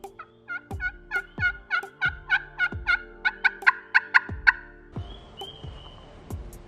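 A wild turkey gobbles again and again on a farm at dawn, a long run of loud rattling gobbles close by, followed by a few softer calls near the end with no talking.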